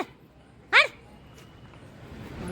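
A single short, sharp bark or yelp from a dog rings out near a palace courtyard in Akkalkot, set against quiet outdoor ambience.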